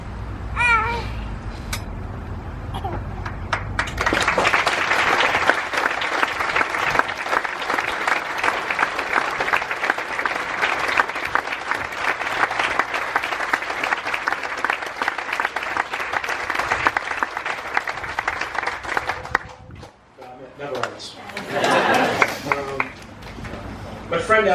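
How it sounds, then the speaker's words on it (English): Sustained applause from a large audience roars for about fifteen seconds, dense and steady, with talking before and after it. "deserve the round of applause that never ends"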